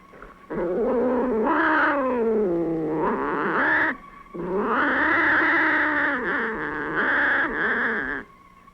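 A cat in the cult horror film The Atomic Brain gives two long, loud, drawn-out wailing meows separated by a short pause.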